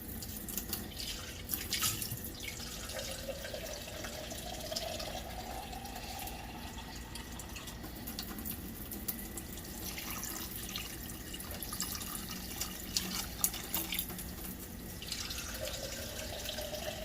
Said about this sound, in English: So let's do that. Add some water.